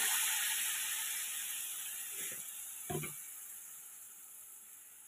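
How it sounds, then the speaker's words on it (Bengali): Water poured onto fried, well-cooked spices in a hot pan gives a loud, hissing sizzle that slowly fades, with a few clatters of utensils against the pan. "এবারে পরিমাণ মতো জল দিয়ে দিচ্ছি।"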